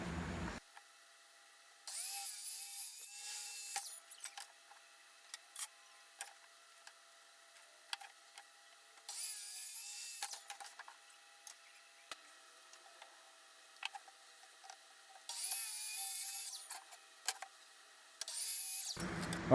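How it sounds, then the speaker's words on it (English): A power saw rips wooden boards in half for a classroom desk build, three loud high whining cutting passes of a few seconds each, separated by quieter ticking and handling noises, no talk. "I'm going to go ahead and cut these down to 3 feet. So I'm going to pretty much rip them right in half."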